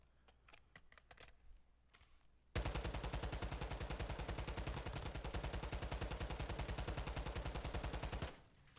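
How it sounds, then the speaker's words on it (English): Sustained automatic gunfire from a Call of Duty DMZ mode weapon, a rapid, loud, steady burst of about six seconds after faint scattered shots and clicks, then ending abruptly. "I hit maybe 3 or 4 shots out of 60 on that guy at 20 meters"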